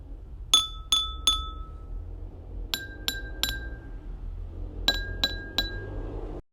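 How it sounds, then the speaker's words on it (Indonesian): A spoon taps three glasses, each filled with a different amount of water: three clear groups of three bright, ringing clinks, each group at a different pitch, separated by short pauses in a quiet room. "Lalu ketuk gelas dengan sendok dan dengarkan suara yang dihasilkan."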